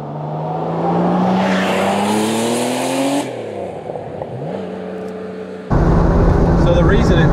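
A 1974 Porsche Carrera 3.0 Turbo with a big K29 high-flow turbo accelerates hard under boost, engine pitch climbing through a gear, dropping at a shift, then roaring loudly again close up, with voices briefly over it.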